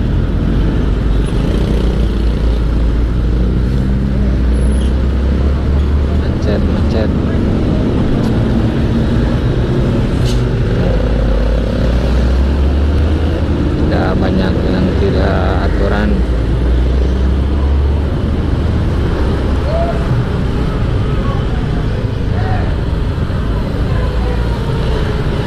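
Rush-hour traffic jam of cars and motorcycles in Rancaekek after rain, a continuous low rumble of idling and creeping engines with occasional nearby motorbike revs and passing vehicles.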